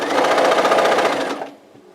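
A sewing machine stitches quilt fabric in a fast, even run of needle strokes that stops abruptly after about a second and a half, leaving near silence.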